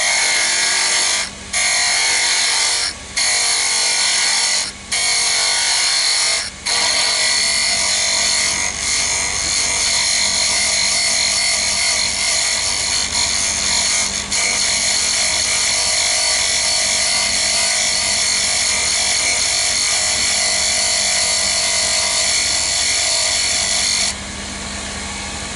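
A wood lathe cutting a rook chess piece, a loud, sustained whirring scrape with several short pauses early on as the tool lifts off the spinning wood, then an unbroken grinding cut for the rest.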